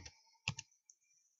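A few quick keystrokes on a computer keyboard as a file name is typed, soft close clicks with short gaps, quiet and alone.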